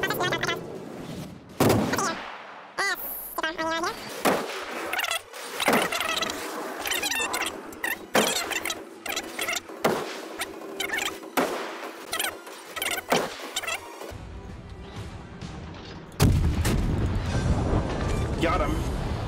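Naval guns fire in the World of Warships video game as an enemy cruiser is destroyed: repeated sharp booming shots and blasts over a rumbling background, with voices talking.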